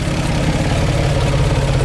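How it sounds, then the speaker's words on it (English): A 1953 Chevrolet Corvette engine idles close up with a steady, loping low rumble and rhythmic pulsing exhaust, loud and unbroken. "Let me listen to it idle."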